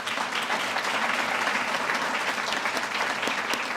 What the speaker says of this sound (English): Join me in giving these nominees a round of applause.